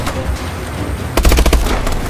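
Automatic gunfire aimed at SUVs in the Call of Duty: Advanced Warfare highway traffic mission erupts halfway through as a loud, rapid burst of close shots over a steady game rumble.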